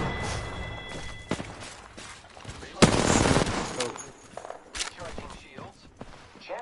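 Rapid automatic gunfire from Apex Legends, loud bursts and fusillades of shots near and far amid game effects, with a voice talking over the action.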